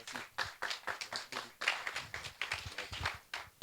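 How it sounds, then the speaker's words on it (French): Irregular clapping from a small audience at a French literary event, applauding the author Fola Gadet, close and fairly quiet, with uneven rhythm and no clear talk. "Je vais vous demander de l'applaudir."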